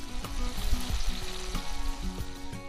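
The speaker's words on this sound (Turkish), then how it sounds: "içine dolmalık ve yeşil fıstıkları ekliyoruz ve kavurmaya başlıyoruz" Pistachios and rice sauté in melted butter with a steady frying sizzle and intermittent stirring scrapes and knocks, close and fairly loud, no voices.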